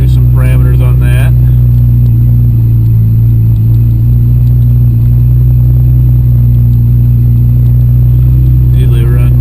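A Nissan Skyline GT-R engine idles steadily while warming up, a loud, constant low rumble with a smooth hum that holds through the whole stretch, with brief faint voices at the start and end.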